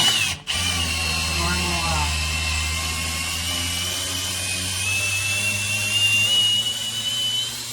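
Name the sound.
drill in low mode turning 7/16 deep well socket on hex shaft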